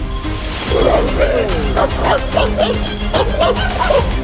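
A dog barks repeatedly in quick, loud bursts close by, with a voice speaking alongside.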